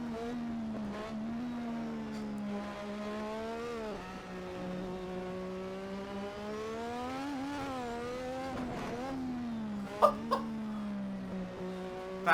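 A classic turbocharged Formula 1 car engine running at full 100% turbo boost on the Singapore street circuit, a loud steady high-revving drone with gear shifts and throttle swells throughout, a few sharp pops near the end.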